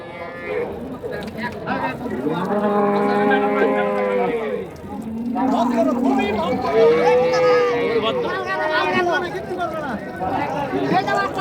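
Dairy cows low repeatedly at a busy cattle market, drawn-out moos rising and falling over constant crowd chatter and nearby voices of buyers and sellers.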